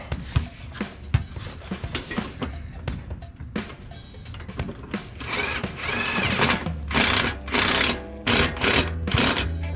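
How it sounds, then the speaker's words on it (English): An impact driver runs a bolt in on a Ford F150 during an oil change, a close, buzzing, rapidly pulsing motor whir with rattling bursts that grow denser toward the end. "And then I can grab my impact driver. Just run that in a little bit."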